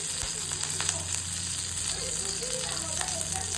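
Curry leaves frying in a little hot oil in a pan for a peanut chutney powder, a steady bright sizzle with light crackles throughout, close and even.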